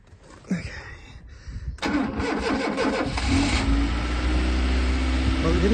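A Fiat Tipo car engine cranks briefly after a few clicks, catches loudly and settles into a steady, rough idle close by.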